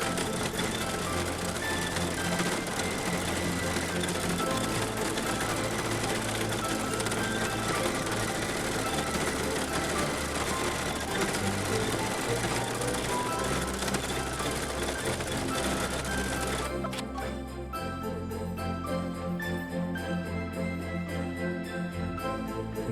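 An embroidery machine stitching an in-the-hoop mini Christmas stocking, a steady, loud mechanical whir and rapid needle chatter running continuously, with the tone shifting slightly near the end.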